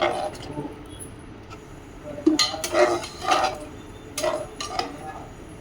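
A spoon stirs bottle gourd curry in a wok after hot water is added, giving intermittent scraping clinks and light metal taps, close and moderate, alongside a voice.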